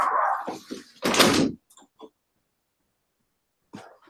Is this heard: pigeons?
no